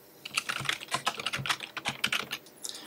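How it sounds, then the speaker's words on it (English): Fingers type a username and password on a computer keyboard, a close, quick run of uneven key clicks and taps with no talking. "We're going to want to type our username and password here."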